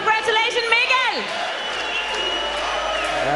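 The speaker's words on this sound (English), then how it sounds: "He has his own fan club behind us here, standing up, cheering for him." A standing fan club of fighter Mikkel Hennings applauds and cheers at a fight night. Loud whoops and clapping ring out, mixed with shouting voices close by.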